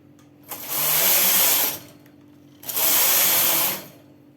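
A knitting machine carriage sweeps across a shawl being knitted with increasing stitches, two loud, close whooshing passes separated by a short pause.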